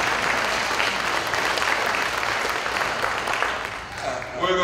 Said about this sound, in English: I wouldn't care for your applause, but go ahead anyway.